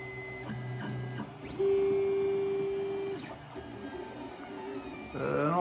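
A 3D printer works through a nozzle-clearing routine with stepper motors singing steady pitched tones that shift and stop in short runs, alongside small mechanical ticks and a faint electrical hum.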